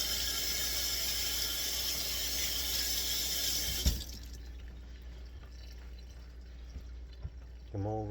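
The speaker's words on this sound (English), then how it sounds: "Rinse your hands off." Running tap water splashes over hands being rinsed in a kitchen sink, a steady rushing hiss for about four seconds that then stops, leaving faint drips and small handling noises.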